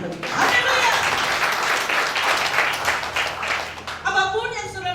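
Congregation applause during a Sunday church service, a broad sustained roar of clapping and voices that fades near the end as a voice begins to speak.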